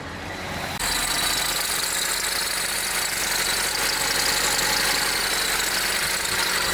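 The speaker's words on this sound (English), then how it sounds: "Smokes, I didn't know your car ran." A 1990s Honda project car's engine starts after a short crank and settles into a loud, steady, rough idle with a slight squeal and knocking edge, running alone without voices.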